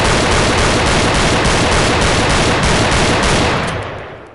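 Rapid, continuous gunfire from a 9mm handgun, loud and close, a dense unbroken burst of shots that runs for about three and a half seconds before cutting off into a short fade.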